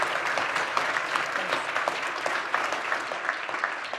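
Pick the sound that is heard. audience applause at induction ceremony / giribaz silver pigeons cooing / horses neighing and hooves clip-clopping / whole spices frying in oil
audience applause at induction ceremony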